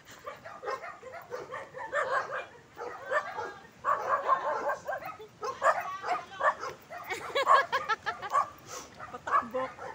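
Dogs yip and bark repeatedly during an early-morning summer walk, the excited calls coming in quick bursts throughout, with some talk mixed in.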